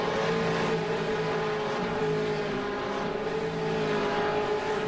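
A V8 race car spinning donuts at Imola's Variante Alta in iRacing, a steady droning engine held at high revs with a rough, slightly wavering note, fairly loud and continuous with no talk.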